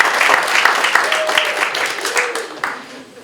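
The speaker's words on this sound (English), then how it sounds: "More applause, more applause." Audience at a leadership summit claps in a moderate, fading round of applause, with sharp individual claps audible and a voice speaking over it.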